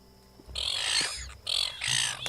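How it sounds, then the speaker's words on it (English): Seagulls squawk in a video game, with three harsh bursts of calls, the first longest, then a short pause and two more shrill cries against a quiet background. "Import seagulls."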